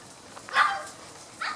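A Saluki gives a short burst of excited barks and yips, then another brief yelp a moment later, fairly close with quiet room sound between.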